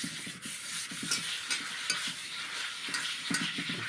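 An iron kadai is scrubbed with dish wash, giving a steady close scraping and rubbing with repeated strokes and faint clinks, with no voices.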